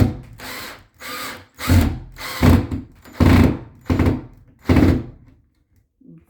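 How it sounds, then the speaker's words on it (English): A power drill drives a nail while patching a drywall crack, whirring in six short bursts, each a few seconds apart, loud and close, with brief pauses between them and no talking. "he's gonna drill the nail in now"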